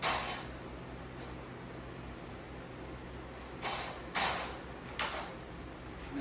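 A door is opened during dog training indoors, heard as a few faint creaks and soft mechanical rattles scattered over several seconds against a quiet background.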